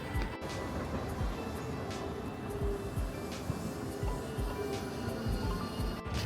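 A tram travels through Japan toward the Miyajima ferry port, producing a steady low rumble with rhythmic rattling and clunks from the wheels throughout, while the interior noise stays constant.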